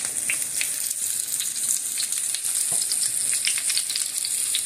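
Lamb chops fry in a pan for a Chinese-style dish, giving a steady close sizzle with faint crackles and pops throughout and no voices over it.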